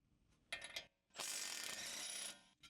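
An impact wrench with a 1/2-inch drive 22mm deep socket removes the drag link nut on a 2007-2018 Jeep Wrangler front end, with two quick buzzing, rattling bursts, the second longer, heard close up in a quiet space.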